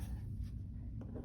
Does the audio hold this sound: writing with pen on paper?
yes